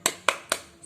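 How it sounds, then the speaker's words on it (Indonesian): Children in a classroom do a rhythmic spirit clap, three sharp, loud hand claps evenly spaced about a quarter second apart. "Oke, kita tepuk semangat dulu ya"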